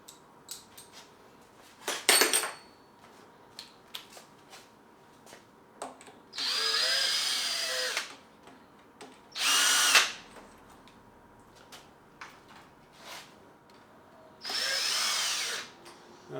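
A power drill backs out the clutch tension bolts on a Yamaha XV1000 Midnight Special motorcycle in three loud whirring bursts, each a second or two long. Lighter metallic clinks and taps of tools and parts fall between the bursts.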